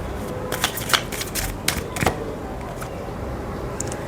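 A deck of intuitive oracle cards is being shuffled, with crisp papery riffles and flicks arriving in short, uneven bursts over a quiet background.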